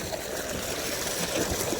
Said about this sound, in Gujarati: કેટલું સરસ પાણી આવી રહ્યું છે